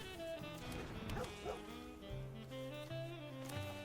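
A cartoonish dog, the Generous Pup card in a Brawl Stars card battle, gives a few playful barks and yips over a bright musical jingle, with faint talk in the background.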